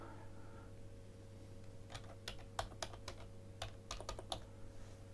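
Quiet typing on a computer keyboard, a short run of irregular key taps over a faint steady hum, starting sparse and then coming in quicker bursts.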